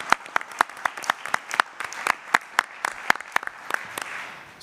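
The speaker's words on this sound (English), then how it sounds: "So a quick round of applause for Marty as well, please." A small group gives a quick round of applause at a board meeting, sparse distinct claps with an uneven rhythm, fairly close and alone without speech.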